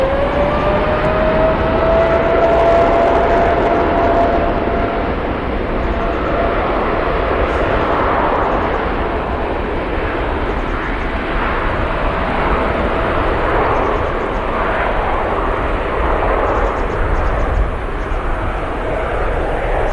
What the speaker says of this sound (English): Do have an EasyJet touching down